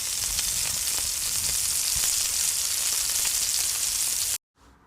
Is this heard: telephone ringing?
no